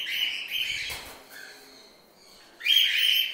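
Cockatiels in colony breeding cages give bright, shrill chirps and calls in two close bursts separated by a quieter gap with softer twittering, with no talk.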